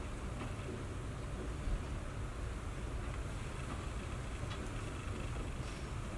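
A ship at sea in heavy waves, with a low steady rumble of engine and water mixed with wind buffeting the microphone, constant and fairly faint throughout.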